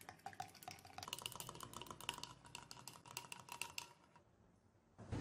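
A spoon stirs sugar and a tablespoon of cooking oil in a bowl, giving quick, busy clinks and scrapes in a dense run that thins out near the end, with no talking.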